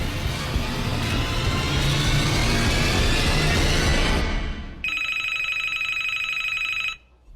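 A telephone rings in a sci-fi film scene, a steady electronic trill that cuts in after a loud, dense rumbling passage and stops abruptly after about two seconds, with no talk.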